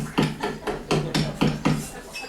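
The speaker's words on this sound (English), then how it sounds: "Never hit your pliers with your hammer." Farrier's hammer striking nails and pliers while shoeing a horse, five sharp metallic blows in a steady rhythm, close and loud with no talk over them.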